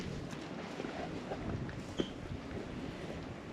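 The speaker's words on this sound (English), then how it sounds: "As hard as the wind is blowing," Strong wind gusting steadily at an old building in rural southwest Oklahoma, a constant broadband roar buffeting the microphone with a brief louder thump partway through, no voices.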